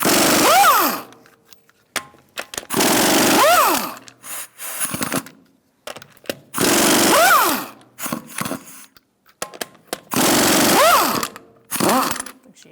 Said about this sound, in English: Using a 19mm socket, I'm going to loosen up our lug nuts,